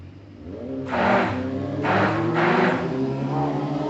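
Engines roar past on a nearby street, several motorcycles rising and fading one after another over a steady low traffic rumble.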